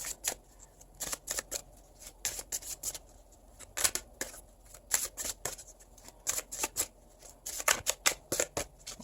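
An oracle or tarot deck being shuffled by hand, repeated quiet crisp riffling bursts in an irregular rhythm, close and soft with no talking.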